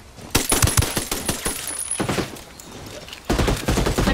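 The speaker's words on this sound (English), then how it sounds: "I'm under heavy fire!" Bursts of automatic gunfire in the shooter game Ghost War, loud rapid volleys with a pause in the middle before another heavy burst, close and dense with no voices.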